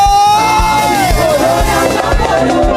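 A church congregation shouting and cheering with joy, a loud sustained crowd roar with a rising voice above it, dense and close.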